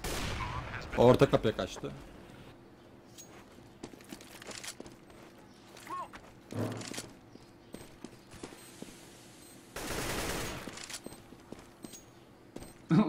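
Gunfire from the shooter game CS:GO, including Nova shotgun shots, comes in sharp isolated bursts among footstep-like clatter, with a player talking briefly over the game sounds.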